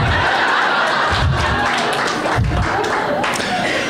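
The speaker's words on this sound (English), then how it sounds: "Let's applaud for child abuse. Keep it going." A comedy club audience applauds during a stand-up set, loud continuous clapping mixed with some laughter and crowd murmur throughout.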